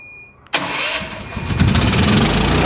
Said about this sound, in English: It'll wait 10 seconds and try and crank again.